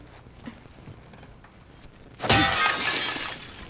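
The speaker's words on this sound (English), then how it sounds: "Broken glass." Glass shatters in The Last of Us Part II, a sudden loud crash with a bright spray of tinkling shards that lingers and fades over a second, after a stretch of quiet game ambience.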